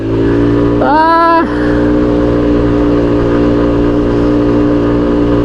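An FKM Ranger 150 motorcycle held at nearly full throttle, its engine note rising sharply into a loud, strained high rev for about half a second before settling back to a steady, close drone that continues throughout.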